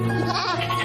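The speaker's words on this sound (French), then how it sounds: "C'est dingue, vous avez aussi récupéré les chèvres." A goat on a farm lets out a short, close bleat, a single wavering cry lasting under a second over a steady low background hum.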